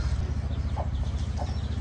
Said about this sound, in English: Got some doggies, some roosters and little chicks.